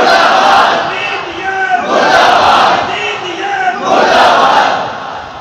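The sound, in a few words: crowd chanting murdabad slogan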